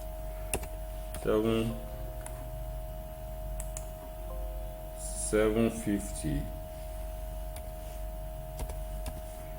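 Scattered keyboard clicks tap out at an uneven pace, soft and close, with brief bursts of a voice in the background.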